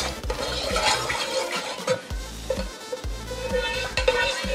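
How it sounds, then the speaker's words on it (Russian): Cognac soaking syrup for sponge cake being stirred in a bowl, with steady sloshing liquid and rhythmic, repeated scrapes of the utensil, close and fairly loud. "теперь это все тщательно перемешиваем."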